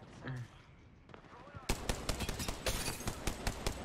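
Rapid automatic fire from a Rampage gun in Apex Legends Mobile rattles out in dense, loud bursts, with shots hammering continuously after a quieter opening and a few faint earlier noises.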